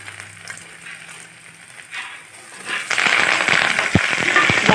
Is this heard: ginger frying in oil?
yes